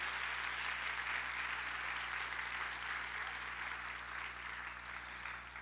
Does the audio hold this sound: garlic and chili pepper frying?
no